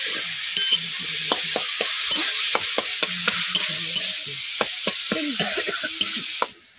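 Potatoes fry in a pan with panch phoron, chili powder and turmeric powder, making a loud, steady sizzle. Frequent sharp spatula clicks and scrapes run over it, and the sound stops abruptly near the end.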